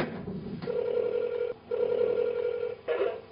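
A satellite telephone ringing during a polar overwintering stay: a steady electronic ring tone in three repeated bursts separated by brief gaps, clear and fairly loud with no talking.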